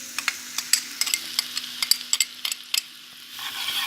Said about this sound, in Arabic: ننزل هنا بالتومه، حطينا هنا معلقتين سمنه بلدي